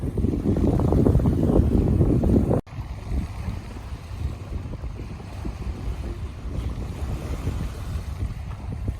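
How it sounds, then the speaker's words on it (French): Gusting wind buffets the microphone in a loud, rough roar that drops to a softer steady rush partway through, outdoors on the town hall square at Esnandes on the Charente-Maritime coast. "un peu de vent"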